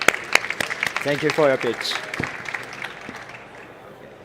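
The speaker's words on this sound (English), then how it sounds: "Please give a round of applause." Applause from an investor-event audience follows a startup pitch, rising under a host's spoken thanks and then thinning into scattered claps over the last seconds.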